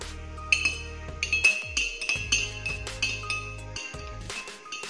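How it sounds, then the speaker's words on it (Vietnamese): A metal spoon stirs lemonade in a glass, giving a quick series of bright clinks and rings against the side, close and clear with no talk. "Các bạn hãy dùng muỗng khuấy đều lên."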